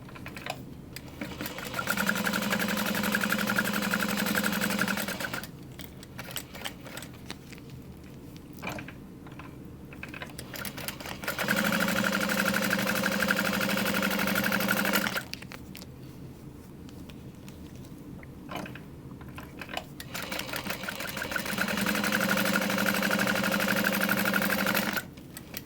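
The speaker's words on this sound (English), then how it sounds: "top stitching 1/8 of an inch from the top long edge" A sewing machine top stitches a fabric sling an eighth of an inch from the long edge, running in three steady bursts of several seconds each, with quieter handling noise in the pauses between.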